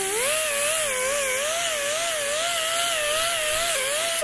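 Red medium-coarse Scotch-Brite disc on a power tool blending a weld seam, a loud, continuous high whine that wavers in pitch as pressure on the metal shifts.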